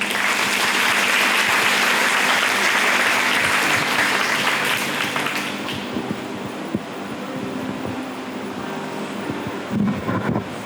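Loud, dense audience applause at a county fair queen contest, a steady roar for the first six seconds that thins into lighter, scattered clapping toward the end.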